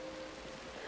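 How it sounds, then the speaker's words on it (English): Rain falls steadily, a soft, even hiss of drops pattering on surfaces, fairly quiet and continuous with no talking. "It's rain."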